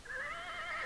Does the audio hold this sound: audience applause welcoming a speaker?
no